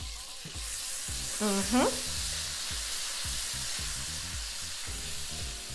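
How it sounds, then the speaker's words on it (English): Butter and minced garlic sizzling in a pan for blackened salmon sauce, a soft crackling sizzle with rhythmic stirring scrapes and clinks, plus a brief murmured voice. "we are gonna add our butter to the pan"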